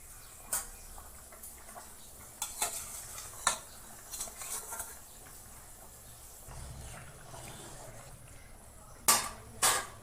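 Taro curry for a hilsa fish dish simmers quietly in a pan while it is stirred, a soft bubbling hiss with scattered clicks and taps of the spoon, and a pair of louder knocks near the end.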